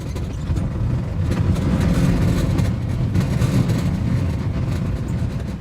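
A Honda Element's engine idles with a steady, low, rumbling drone heard from inside the car, even and continuous throughout with no revving.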